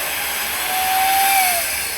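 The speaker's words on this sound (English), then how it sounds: "You wanna try the sander? Yeah, let's do some sanding." An electric sander runs off a Rivian R1T truck's power outlet, giving a loud, steady high-pitched whine that rises slightly in the middle and holds for about two seconds, with no talk.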